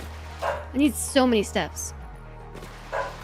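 A pet dog gives a few short yips and barks close by, mixed in with someone talking.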